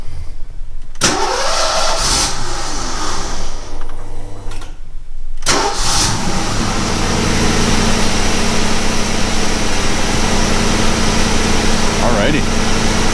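A 1991 Ford Mustang Fox-body with a 5.0 V8 and a newly replaced fuel pump cranks in a few short tries, then catches and settles into a steady, loud, rumbling idle close to the microphone.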